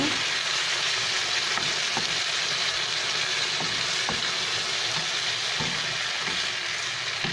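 Beef stir-frying in a hot pan, a loud continuous close sizzle that holds evenly throughout, with faint clicks now and then and no talking.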